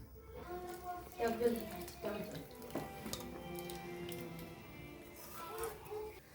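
Water poured into tamarind in a kitchen while a fish and ripe tamarind sour dish is cooked, a soft splashing trickle at close range under a person talking.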